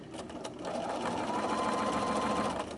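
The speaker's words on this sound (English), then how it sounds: "I'm going to stitch all the way down" A sewing machine stitches quilting fabric along a quarter-inch seam guide, a steady rapid mechanical whir and clatter, close and continuous for a few seconds with a brief start and stop at the ends.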